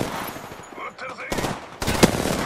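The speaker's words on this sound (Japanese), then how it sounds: "撃ってるぜ。" Gunfire in a video game shooter match, rapid bursts of shots cracking out in clusters with a sharp, louder report near the end, fairly close and dense.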